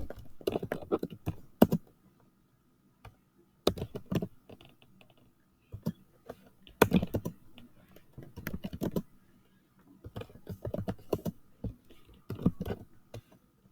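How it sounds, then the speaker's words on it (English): Someone types on a computer keyboard in irregular bursts of quick, close, soft key clicks separated by silent pauses. "I'm a slow typer."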